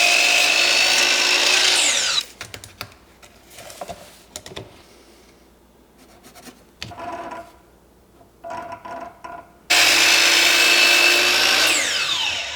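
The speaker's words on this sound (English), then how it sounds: "let's trim this board to its rough length" A power saw rips through a white pine board, loud sustained whine at the start and again at the end, with quieter clatter and handling knocks of wood in between.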